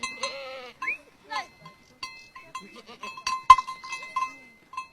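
Goats bleat in a San village in Botswana, several short wavering calls near and far, with a metallic clink of a bell and brief voices in between.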